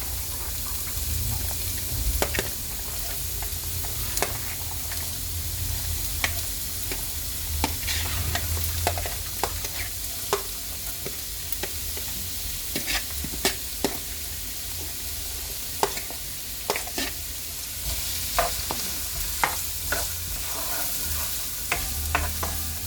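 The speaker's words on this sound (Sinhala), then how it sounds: "මේක ටිකක් හොඳට බැදෙන්න දෙමු" Carrots fry in about two ladles of coconut oil for nasi goreng, with a continuous close sizzle and frequent sharp scrapes and clacks of a spoon stirring the pan throughout.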